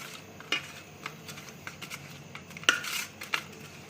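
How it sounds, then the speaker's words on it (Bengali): Small chela fish are worked by hand with salt and turmeric powder in a metal bowl, giving soft wet squelching broken by sharp clinks and scrapes of metal utensils, close and without talk. "এবার মাছগুলোকে খুব ভালোভাবে মাখিয়ে আর আমরা এটাকে ভাজা করে নেব।"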